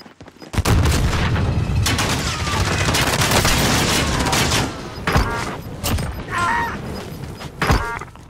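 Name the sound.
gunfire in a video game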